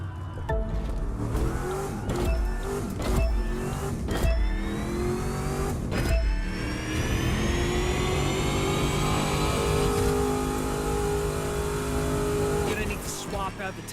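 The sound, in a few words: car engine accelerating with nitro boost in The Crew 2 video game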